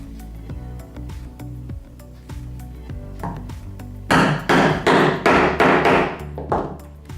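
Nylon hammer striking a hole punch set on leather with a scrap underneath, starting with light taps and then a loud run of about six firm, evenly spaced blows close by.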